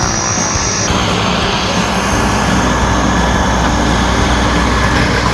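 A skydiving aircraft's engine drones steadily and loudly in flight, a broad continuous roar that stays even throughout, with no voices.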